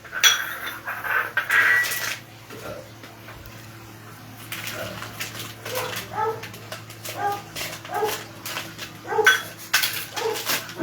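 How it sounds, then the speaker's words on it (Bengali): A knife works through a block of Amul malai paneer on a kitchen board, giving soft repeated tapping cuts with light clinks of utensils, mid-distance, while a dog whimpers and barks faintly nearby. "এইবারে আমি কাটবো আমুলের মালাই পনিরটা"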